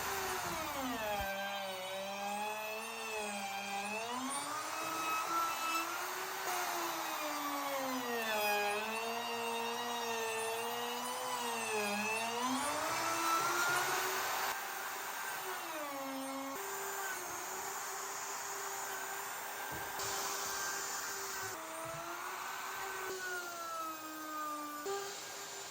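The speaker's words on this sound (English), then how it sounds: "I'm hoping routering all this out will get rid of those stains." A router flattens a stained wood slab on a flattening jig, a loud, continuous whine whose pitch rises and dips as the bit sweeps back and forth across the surface, with no talk.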